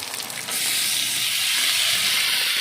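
Mutton hitting hot oil in a wok with onion, cardamom, cinnamon and bay leaf sets off a loud, steady sizzle and hiss that swells after a brief quieter start and keeps going close by.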